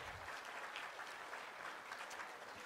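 A church congregation applauds in celebration of a young taekwondo medalist, a soft, distant-sounding wash of many hands clapping steadily from start to finish without any speech.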